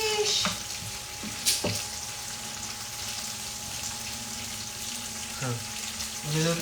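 French beans with salted egg sauté in a pan, a constant bright sizzling hiss with a few clinks and scrapes of stirring, and a voice briefly audible underneath.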